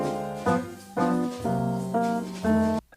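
A 1960s Dutch-Swedish singer-songwriter's song sample, left channel only, plays as a lo-fi tonal phrase of five sustained, harmonic-rich chords. Each chord is struck about every half second, and the phrase cuts off sharply near the end.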